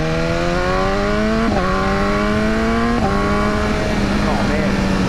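A 2015 BMW S1000R motorcycle accelerates hard, its engine note climbing steeply through the revs in three rising pulls, with short dips at each gear change, loud and close over steady wind roar.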